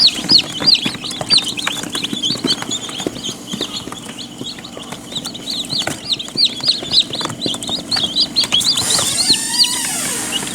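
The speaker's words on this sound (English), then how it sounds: "I do like my chickens." Chickens cluck and chirp steadily nearby, a busy overlapping flock with short repeated calls throughout.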